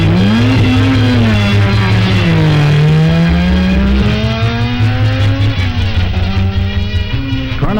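A Mazda RX-7 IMSA GTU race car at the 1979 24 Hours of Daytona pulls into the pits for refueling. Its engine drones loud and close throughout, the pitch sliding up and down with the throttle.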